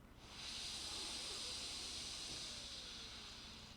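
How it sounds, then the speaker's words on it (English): A steady, soft breath drawn in through the left nostril during yoga alternate-nostril breathing, a smooth airy hiss that swells in and holds evenly for a few seconds without talk. "And breathing in through the left again."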